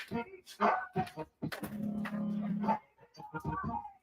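Puppies bark and yip in short, uneven bursts at close range, with whimpering sounds mixed in and no clear talk.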